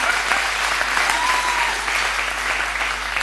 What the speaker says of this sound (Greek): ένα χειροκρότημα ρε παιδιά στο ράβι